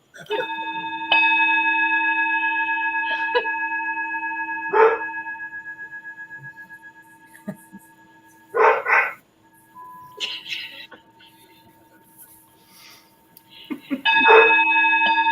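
A dog barks in short bursts at a few scattered moments outdoors, sharp and fairly close, alternating with a long sustained bell-like tone that rings and fades between them.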